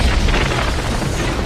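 A gas-filled room blows up in an action film, a loud sustained boom with dense low rumble and crackling debris that holds steady for over a second without letup.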